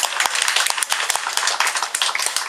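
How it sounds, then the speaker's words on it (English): Many hands clap together in steady, continuous applause, dense and fairly loud. "Please give them a big round of applause."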